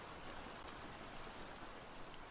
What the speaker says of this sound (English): it's still raining now. You can hear it right outside.